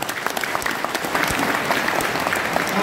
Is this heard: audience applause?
yes